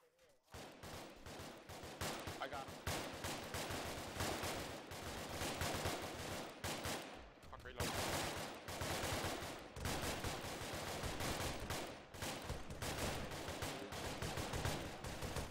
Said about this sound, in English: Oh shit, we're taking fire now.